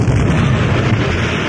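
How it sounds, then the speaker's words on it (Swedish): An explosion bursts from an inventor's house as a loud, sustained boom with rumbling, fiery roar that fills the whole stretch without pause. "Precis då hördes en explosion från hennes fars hus"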